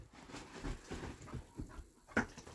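Puppies whimper and whine outdoors in a wet, rain-soaked field, a few soft whines spread through the moment, with one louder, sharper yelp near the end.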